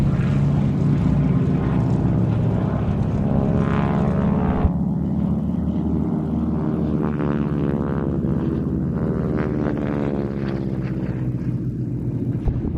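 Propeller aircraft flying a display pair at the Old Buckenham Airshow, a loud continuous engine drone rising and falling in pitch as the machines pass and manoeuvre overhead.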